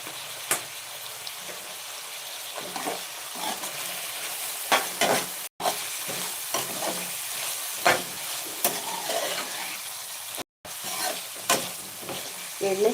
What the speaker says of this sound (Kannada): ಈಗ ಇದಕ್ಕೆ ಅರಿಶಿನ ಹಾಕೋತೀನಿ ನೋಡಿ ಅರಿಶಿನ ಹಾಕ್ತೀನಿ